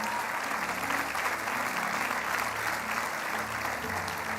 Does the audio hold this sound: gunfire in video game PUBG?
no